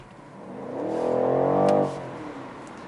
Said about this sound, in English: that whistle and the bangs in the sports exhaust, the M Performance exhaust, is amazing